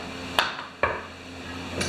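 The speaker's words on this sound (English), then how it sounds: "I'm just using the hammer now." Two sharp hammer blows about half a second apart, with a fainter third strike at the end, over a steady background hum.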